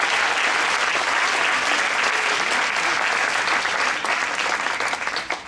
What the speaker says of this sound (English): we all just need to give her a clap